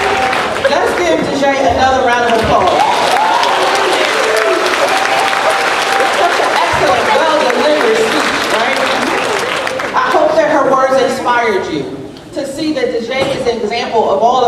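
Convocation audience of the Chester Upland School District applauding, clapping that runs throughout under a voice speaking and some musical tones, with a brief dip near the end.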